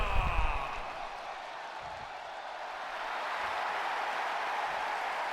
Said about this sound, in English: You can hear the crowd coming off their seats, completely on their feet for this European Championship match